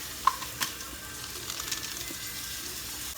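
Lentils and flour toasting in a pan make a faint, steady sizzle with a few soft clicks of stirring, quiet and continuous with no talking.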